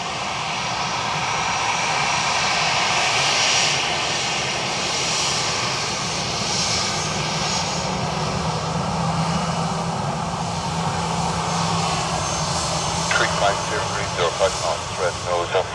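An aircraft lands on runway 28 left at Dublin Airport, its engines a loud steady roar throughout, with a radio voice and some talk at the end.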